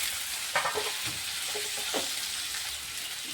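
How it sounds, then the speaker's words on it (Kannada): Okra (bhindi) sizzling in a hot pan, a constant hissing fry with a few scraping stirs of the spatula, close and moderately loud, no one talking. "ಇದಿಷ್ಟು ಹಾಕ್ಕೊಂಡು ಇವಾಗ ಚೆನ್ನಾಗಿ ಇದನ್ನು ಫ್ರೈ ಮಾಡ್ತೀವಿ"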